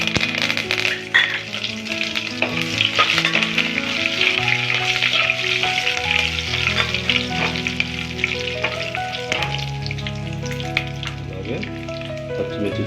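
Curry leaves fry in hot oil for a chicken dum biryani, giving a loud, steady sizzle with crackling pops and occasional stirring scrapes throughout.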